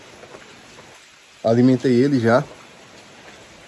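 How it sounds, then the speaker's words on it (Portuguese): Rain falls steadily on a rural smallholding as a soft even hiss that runs throughout, with a person talking briefly over it in the middle. "E mais um dia de chuva, gente."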